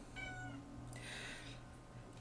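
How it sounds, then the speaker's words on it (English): A cat meows once with a clear tonal cry, then a short higher-pitched mew follows, over a steady low background hum. "If it's not a kid, it's a cat."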